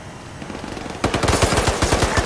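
Arma 3 gunfire during a convoy training operation: faint distant shots at first, then a loud, rapid burst of automatic rounds fired in quick succession, each crack sharp and close.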